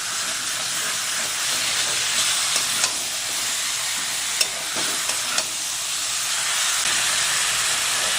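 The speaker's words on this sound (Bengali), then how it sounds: "এবার এটাকে আমি ভালো করে ঢাকা দিয়ে কষিয়ে নেব।" Yogurt chicken sautés in a pan for a Bengali doi chicken dish, a steady hissing sizzle with a few small pops and scrapes, close and alone.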